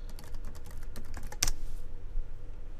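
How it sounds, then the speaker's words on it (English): Search words are typed on a computer keyboard: a quick run of close, crisp key clicks, with one louder key strike near the middle before the tapping trails off. "just type the topic that you want to search for or the words that you want to search for"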